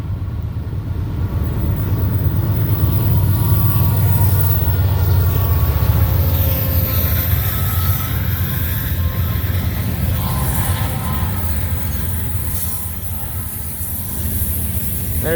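A CSX freight train rolls past close by, a long steady roar of wheels and cars with squealing metallic rail tones drifting over it, holding loud for the whole stretch and easing slightly toward the end.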